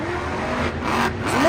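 Monster truck engine at a Monster Jam arena show in Arlington, a continuous rough roar that swells and builds louder toward the end, with crowd and arena ambience underneath.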